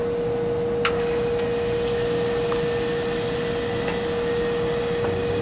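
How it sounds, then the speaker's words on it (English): A laboratory freeze-dryer's vacuum pump runs with a loud, steady hum and broadband whir, a constant tone sitting under occasional faint clicks, with no talk. "This is, the temperature's light enough so we can start the vacuum."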